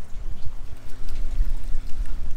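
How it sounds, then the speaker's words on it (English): Salt water pumped into a boat's bait well, a steady low rushing and trickling flow with a faint constant pump hum underneath, close and continuous throughout. "we're still pumping water"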